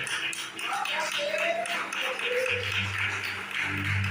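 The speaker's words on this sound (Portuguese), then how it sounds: "Aplauda o Senhor." A church congregation claps during a Portuguese-language sermon, a dense, sustained patter of many hands, with speech and a low musical tone running underneath.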